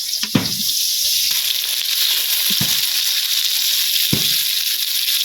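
Eggplant fries in hot oil with a steady, close hiss of sizzling that carries throughout. A few soft thuds and clacks of utensils or pieces shifting in the pan break through the sizzle.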